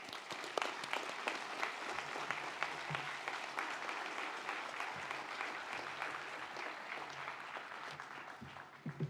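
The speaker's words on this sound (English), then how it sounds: "Let us give a round of applause to the graduate who have just been presented." A commencement crowd at a university graduation ceremony claps continuously for newly presented business administration graduates, a moderately loud, even wash of applause with a few sharper individual claps standing out.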